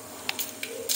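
Mustard seeds drop into a quarter teaspoon of hot oil in a pressure cooker and crackle in a few faint, brief sputtering pops and hisses against a quiet kitchen background.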